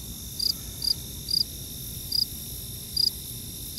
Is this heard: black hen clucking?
no